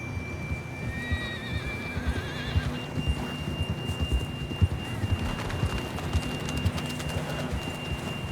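A horse in the Red Dead Redemption 2 video game whinnies loudly near the start, followed by a steady run of clip-clopping hoofbeats over a low rumbling outdoor background.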